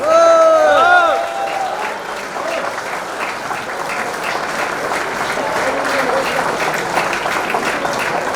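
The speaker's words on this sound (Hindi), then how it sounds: "तालियां बजती रहनी चाहिए भारत की इस बेटी के लिए" A crowd applauds steadily at a beauty pageant event, a dense clatter of many hands clapping, with a voice calling out loudly in Hindi over it at the very beginning.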